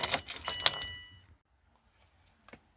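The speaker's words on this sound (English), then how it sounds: "turn the key to the lock position and get it out of the ignition switch just like that" Car keys jangle close by as a key is turned in the ignition switch and pulled out, a busy metallic rattle that fades to near silence, followed by one faint click.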